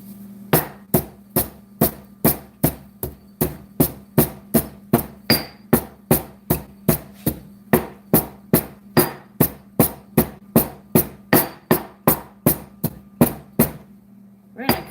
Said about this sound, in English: What I'm actually doing now is grinding my peppercorns.